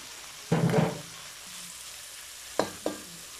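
Garlic and onion hitting hot olive oil in a pan for a beef stew, giving a short burst of sizzling, then quiet with two brief stirring clatters later.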